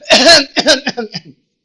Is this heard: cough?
yes